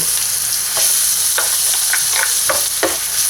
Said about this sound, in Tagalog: magpainit lang tayo ng oil dito sa ating pan at igigisa na natin yung ating garlic at onion